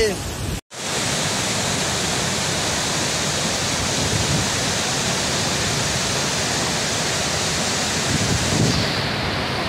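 Waterfall near Bheloghat, a steady, loud broadband rush of falling water that continues unbroken for nearly the whole stretch, apart from a momentary dropout right at the start.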